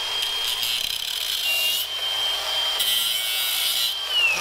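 Cutting tool grinding steadily through a nut on a Ford Bronco, a continuous close, loud abrasive rasp with a few brief dips in intensity.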